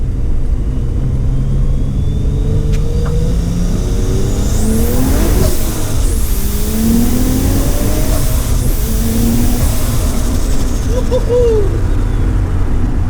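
A Nissan Skyline drift car accelerates hard on a street in Japan, its engine revving up through rising and falling gear pulls with brief squeals, loud and close from inside the car.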